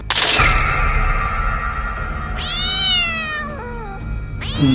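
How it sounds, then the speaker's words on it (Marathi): A cat meows loudly twice, long drawn-out cries, following a sudden sharp crash at the start. "मांजर आहे मांजर"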